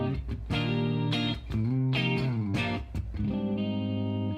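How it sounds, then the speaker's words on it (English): Clean electric guitar through a Kiesel preset on a Hyperrig with chorus in swirl mode, playing sustained chords with shifting notes, each strum ringing out loud and shimmering with a warbling wash. "And I turned on the chorus in the swirl mode."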